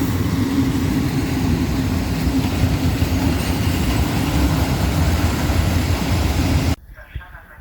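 A long train hauled by a PESA Gamma locomotive rolls through the station at Tłuszcz in Poland, a loud continuous rumble of wheels and wagons that cuts off abruptly near the end.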